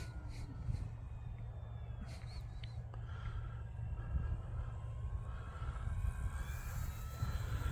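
An E-flite T-28 1.2m RC model airplane cruises at half throttle outdoors in wind, its engine a steady, distant drone under wind rumble, with no voices.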